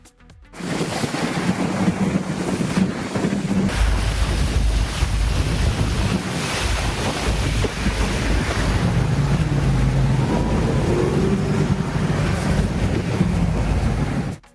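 High-speed coast guard patrol boats run at sea, a loud steady roar of engine and rushing water with heavy wind buffeting the microphone throughout, the low motor drone shifting in pitch partway through.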